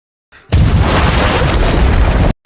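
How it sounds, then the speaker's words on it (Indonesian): A single loud explosion in a war story erupts suddenly, a deep roaring blast set off by a tripwire that rumbles on for nearly two seconds before cutting off. "alhasil ledakan pun tak terhindarkan lagi"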